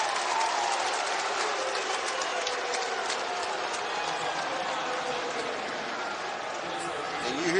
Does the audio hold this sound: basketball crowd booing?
yes